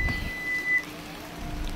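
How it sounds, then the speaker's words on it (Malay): Steady rain falls outdoors as an even, hissing wash that carries on throughout, with no voices. "tapi kena tunggu hujan reda lah"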